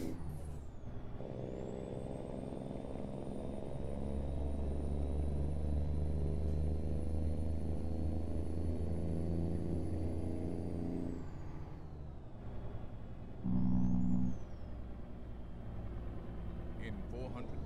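A Freightliner FLB truck's engine drones steadily in American Truck Simulator, a deep rumble that rises and holds, then drops off, with a short hiss like an air brake near the end.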